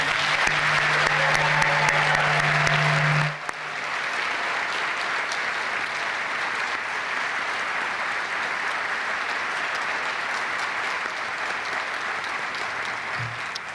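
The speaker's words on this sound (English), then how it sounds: "Let's give him a round of applause." Steady applause from an audience at a high school Martin Luther King Jr. Day ceremony, many hands clapping continuously, following a brief amplified hum at the start.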